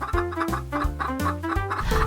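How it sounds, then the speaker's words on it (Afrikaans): A hen clucking on a farm in steady, repeated bursts, close and fairly loud, with a stacked harmonic tone that sounds a little musical or processed. "'n hen sê pok pok pok pok"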